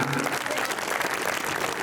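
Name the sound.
audience clapping hands at concert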